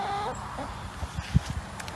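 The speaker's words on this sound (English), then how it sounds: "So this rooster" A homestead rooster clucks in a few short, low, close calls among faint farmyard background noise.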